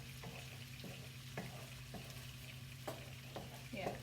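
Eggs for pad thai scramble in a hot pan, a steady sizzle punctuated by about seven scraping spatula strokes at a regular pace, close and moderately loud, with no voices.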